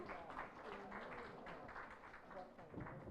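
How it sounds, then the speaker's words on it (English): An audience at a gender gap symposium claps for the panelists, a steady moderate round of applause under voices talking through it. "You guys can still clap for them another round."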